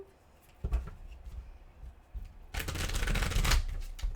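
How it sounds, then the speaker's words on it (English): Tarot cards from a Ghost Tarot deck being shuffled by hand, a few soft riffles building to a denser, louder flurry of card slaps near the end, close and alone with no talk. "Let's give it a couple more shuffles."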